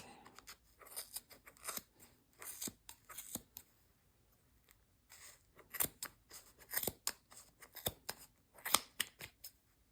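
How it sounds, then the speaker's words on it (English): Scissors snip through the yarn loops wound on a pom-pom maker, giving many quick, crisp close-up cuts in irregular bursts separated by brief quiet pauses. "I'm just going to trim through all these loops."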